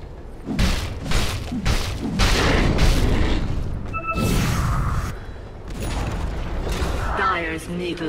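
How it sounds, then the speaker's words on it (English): A tower being destroyed in Dota 2 gives a series of heavy booming crashes and creaking, rumbling debris, loud and close, with game effects and a voice speaking partway through. "Dire's middle tower has fallen."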